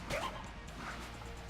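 A wolf pup companion in the video game Enter the Gungeon gives short yipping barks amid game effects, close and fairly loud, in one quick burst at the start.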